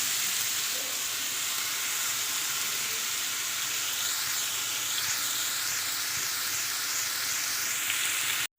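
Potatoes fry in oil in a wok, a steady dense sizzle and hiss that runs loud and unbroken from start to finish before cutting off abruptly at the very end.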